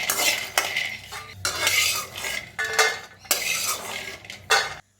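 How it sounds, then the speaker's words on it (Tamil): Peanuts are dry roasted in a kadai, a metal spoon scraping and clattering against the pan in short, irregular bursts with brief pauses between strokes, close and fairly quiet. "இதில் வேர்க்கடலை சேர்த்துக்கிறேன். ஒரு 2 நிமிஷம் நல்லா வறுத்துப்போம்."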